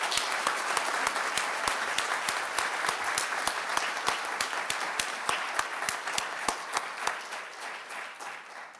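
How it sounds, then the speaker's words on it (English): Applause for graduates at a biology commencement ceremony, a dense wash of clapping from a large hall audience with sharp individual claps standing out, gradually thinning toward the end. "A big round of applause to all the graduates"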